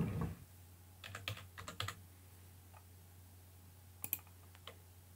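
An email and password are typed on a computer keyboard: short clusters of crisp key clicks near the start, then a few isolated taps after a pause, close, over a steady low hum.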